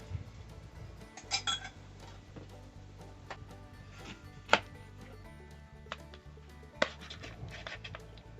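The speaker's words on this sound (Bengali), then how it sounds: "ততক্ষণে বন্ধুরা আমি পটলগুলোকে একটু 1/2 করে কেটে নিচ্ছি।" Pointed gourds (potol) being cut in half with a knife, a scattering of sharp taps and clinks against a board or plate, sparse and irregular, over a steady low hum.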